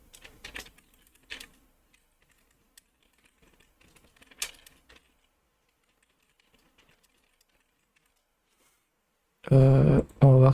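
Brief clusters of computer keyboard typing, a few quick taps spaced out over quiet stretches, followed by someone speaking at the end.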